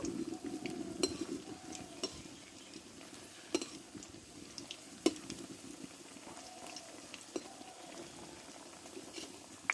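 Drumstick leaf pakora fry in hot oil with a soft, continuous bubbling that stays fairly faint. Occasional sharp utensil clinks mark the pieces being turned, and no one speaks.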